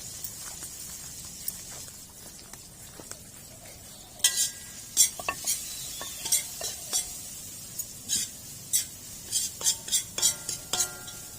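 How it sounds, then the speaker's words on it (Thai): Chili and garlic stir-fry in a pan for a giant catfish stir-fry, a low sizzle broken by repeated sharp clinks and scrapes of a spatula against the metal, getting busier midway. "ผัดให้หอมก่อนนะ"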